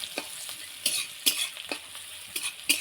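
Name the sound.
frying and stirring onion and garlic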